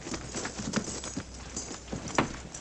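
Horses clip-clop as a cavalry detail halts and soldiers dismount, a series of hollow hoof knocks at an uneven pace, fairly faint and close, with no talk over them.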